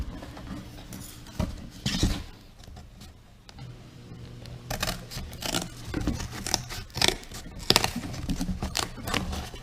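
Pieces being cut for a handmade treasure chest: irregular snips and crisp clicks of cutting close by, with soft handling rustle between cuts and no talk.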